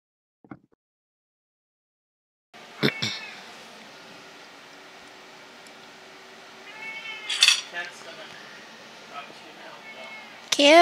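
Kitten meows a few times near the microphone, short high cries that come over clattering of dishes and cutlery and bursts of nearby noise, with a person speaking now and then.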